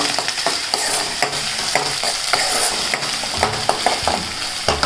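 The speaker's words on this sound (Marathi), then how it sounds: "मिरची कढीपत्ता हे सगळं परतून घेते" Green chillies and curry leaves sautéing in a pan for egg bhurji, with steady close frying hiss and frequent scraping stirs of a spatula throughout, no talk.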